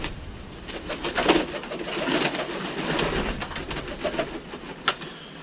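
Lynx pigeons coo steadily while feeding, a soft continuous murmur of overlapping calls with a few sharper flutters and clicks, close and fairly loud with no talking.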